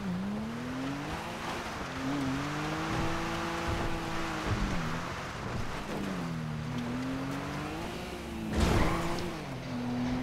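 A car driven in the video game GTA V, its engine droning and rising and falling in pitch with gear changes and throttle, steady and fairly close, with a brief whoosh near the end.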